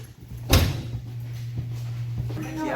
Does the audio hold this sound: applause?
no